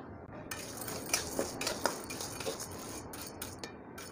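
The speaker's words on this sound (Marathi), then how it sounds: "हलत राहायचं त्याला, सारखं सारखं ब्राऊन करायचं आहे." Chana dal being dry-roasted in a pan, stirred continuously with a spoon that scrapes and clinks against the metal in a steady, close rhythm of sharp taps over a soft rustle of the grains.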